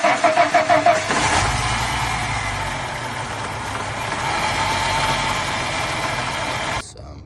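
Ford Thunderbird Super Coupe 3.8 V6 running with worn, bad tensioner bearings: a few rhythmic clattering pulses at the start, then a loud, steady engine drone with rattly, metallic texture that cuts off abruptly near the end.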